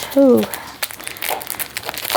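Plastic packaging from a diamond painting kit crinkles and crackles as it is opened, close and loud at first, then in irregular rustling bursts, with a brief voice near the start.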